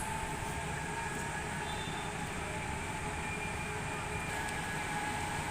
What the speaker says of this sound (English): we've got another tram coming.